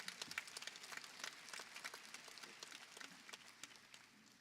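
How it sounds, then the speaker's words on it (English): Audience clapping at a fall university convocation, a scattered, moderately quiet round of individual claps heard from across a large hall for several seconds, thinning slightly toward the end. "You can clap."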